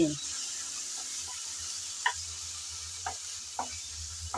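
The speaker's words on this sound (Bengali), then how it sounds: "আদা রসুন আবারও সামান্য নেড়ে চেড়ে বেজে নিচ্ছি" Ginger and garlic paste fry in a pan, a low continuous sizzle broken by several distinct scrapes and taps of a spatula stirring, close and moderately quiet.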